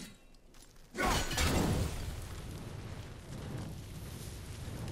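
An explosive object blows up in the video game God of War (2018): a sudden burst of shattering rubble and a low rumble that fade into a long debris roar, with no speech.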